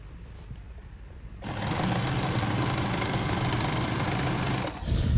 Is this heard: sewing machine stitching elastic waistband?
yes